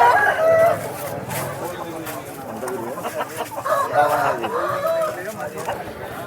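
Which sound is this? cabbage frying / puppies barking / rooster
rooster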